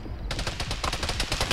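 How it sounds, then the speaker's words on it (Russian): Machine gun firing in the video game Arma 3, a rapid rattling burst of shots starting abruptly after a brief quiet moment and continuing steadily, fairly loud, with no talking. "Пулемет работает."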